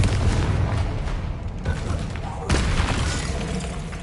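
Explosive blast of the Confringo spell in Hogwarts Legacy amid combat, with loud broadband booms and crackling impacts, a sharp burst landing midway, over continuous spell and battle noise.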